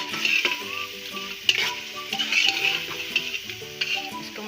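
Cumin, ground coriander, turmeric, red chili and salt sizzle in a pan for a dhaba-style lauki chana dal while a utensil stirs them, with scraping clinks and a steady fry. Faint music plays underneath.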